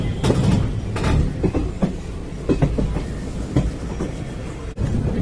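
Train running through Pandit Deen Dayal Upadhyaya (Mughalsarai) station in India, heard from onboard: a steady loud rumble with rhythmic clickety-clack of wheels over rail joints, continuous throughout with a brief dip near the end.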